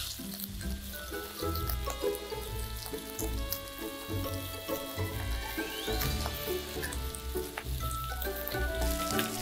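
Red boar steak sizzles steadily as it fries in a pan, a loud continuous crackle and hiss with no talking.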